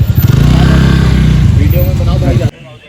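A rented motorcycle engine runs loud and close with a throbbing rumble for a few seconds, then cuts away abruptly, while a voice speaks over it.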